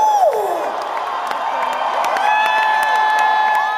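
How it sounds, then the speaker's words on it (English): A concert audience cheering and whooping loudly at a final show, a dense roar of crowd noise with shrill whistles and shouts rising over it for several seconds. "while the audience are still cheering"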